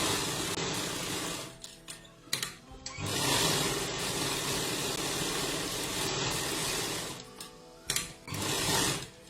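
An electric sewing machine stitches around the neckline of a kurta made from plain fabric, running in short whirring bursts separated by brief pauses and clicks, close and fairly quiet.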